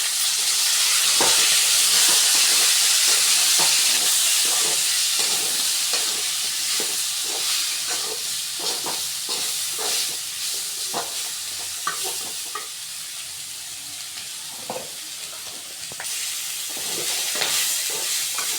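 Ivy gourd (kovakkai) sizzles in a hot pan while a utensil scrapes and stirs it in irregular strokes, steady frying hiss throughout.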